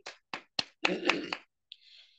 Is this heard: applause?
yes